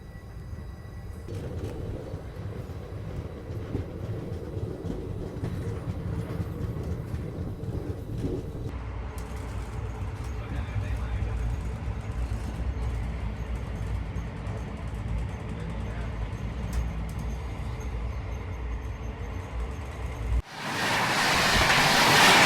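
The Katni Bhusaval Express departing a station, heard from on board as a steady rolling rumble and hiss that builds, then a sudden loud roaring rush in the final seconds.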